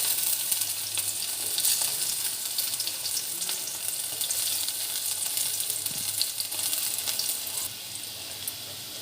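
Sliced onion dropped into hot oil for a beetroot fry, giving a steady, even sizzle that fills the whole stretch with no talking.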